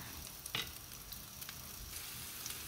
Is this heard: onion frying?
yes